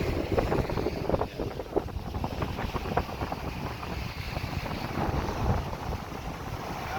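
Strong wind at sea buffets the microphone in a constant low roar, with high waves, choppy water and outrigger boat noise underneath, loud and unbroken.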